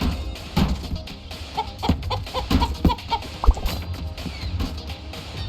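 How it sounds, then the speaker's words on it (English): Chicken clucking in the video game Moving Out, a run of short, choppy clucks and squawks mixed with busy game sound effects, fairly loud and close, with no talking. "This chicken is very annoying."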